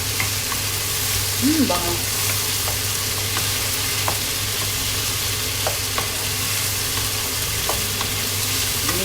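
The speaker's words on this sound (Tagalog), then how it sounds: "Ginisang Chinese pechay." Chinese pechay with sardines sautés in a pan, giving a constant close sizzle with small clinks and stirring taps, while a voice speaks briefly.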